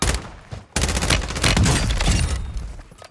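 Loud, dense bursts of video game gunfire in Call of Duty Warzone, a rapid volley of shots, a short pause, then sustained firing that keeps up for most of the stretch.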